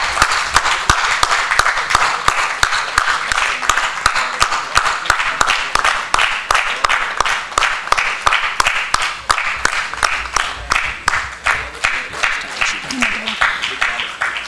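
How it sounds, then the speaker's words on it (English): Steady rhythmic applause from an audience at a corporate awards summit in India, honouring a Lifetime Achievement Award in film and society; even, continuous clapping at moderate level, no voices. "Give a huge round of applause for the Lifetime Achievement Award in the field of film and society"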